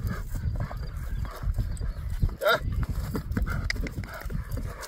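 Horse hooves clip-clopping at a brisk, steady pace, fairly close, over a noisy outdoor background at a horse market, with a faint voice now and then.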